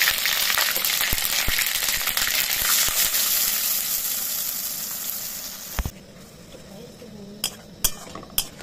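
Ginger garlic paste hits hot mustard oil in a pan for a chicken chaap, and a loud, dense sizzle with sharp crackles follows. It drops to a quiet simmer, then a few clinks of a utensil come.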